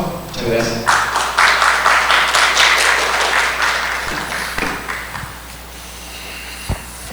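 Audience applause welcoming a speaker at a medical lecture, a burst of clapping that swells for a few seconds then fades, followed by footsteps and a few faint knocks near the end.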